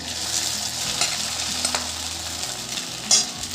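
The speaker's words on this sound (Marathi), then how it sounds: "तापलेल्या तुपात मी लवंगा टाकते साबुदाणा टाकते भिजवलेला" Cloves and soaked sago pearls fry in hot ghee for sweet sabudana khichdi, producing a continuous close sizzle with stirring scrapes and a sharper spatter near the end.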